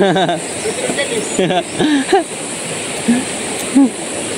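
Kawasan Falls waterfall rushes as a steady broadband roar close by, with people talking over it throughout.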